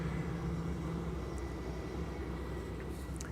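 A KLM Boeing 777-200 airliner arriving at Schiphol on runway 18R from New York JFK gives a steady, fairly distant engine roar with a low rumble that holds throughout, and no one speaks.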